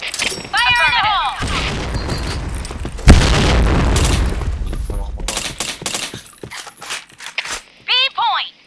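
Grenade explosion in a shooter video game: a heavy boom bursts out midway amid rapid gunfire and shattering, with excited players talking over the action.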